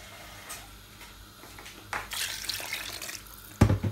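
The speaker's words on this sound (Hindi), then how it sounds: "और इसमें थोड़ा हम पानी डाल देते हैं लेके।" Water is poured into a pan of spicy roti curry cooking over high heat: faint splashing bursts that grow louder near the end, against quiet kitchen background with no talk.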